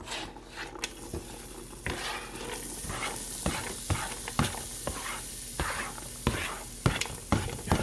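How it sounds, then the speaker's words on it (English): Onions and ham sauté in a pan for a ham and pasta cream dish, with a soft, steady sizzle broken by sharp utensil clicks and scrapes at irregular intervals. "So we're going to start out by sauteing the onions and the ham at the same time."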